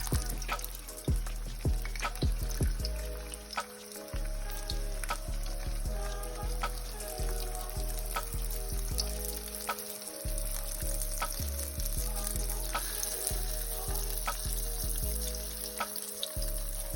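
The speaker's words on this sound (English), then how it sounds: "So this is the parboiled cassava, and I'm putting them to fry" Parboiled cassava pieces sizzling steadily in hot oil, a loud continuous close-up fry with crackling bursts and occasional clinks of a utensil, no voices.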